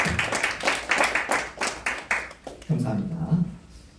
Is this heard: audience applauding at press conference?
yes